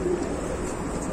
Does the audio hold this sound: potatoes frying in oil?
no